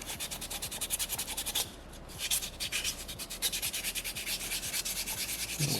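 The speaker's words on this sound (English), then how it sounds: "you get a much better sanding finish when you're using water" Steady rhythmic rasping of wet sandpaper rubbed back and forth on soapstone with water, quick even strokes, close up with a brief pause midway.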